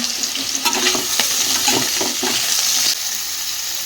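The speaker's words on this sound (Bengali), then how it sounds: "আলু দেখে সয়াবিনটার মধ্যে দিয়ে ভাজা ভাজা করে নেব" Potatoes and soybean chunks fry in a pan of hot oil with a steady, close sizzle, broken by several sharp scraping clicks as they are stirred.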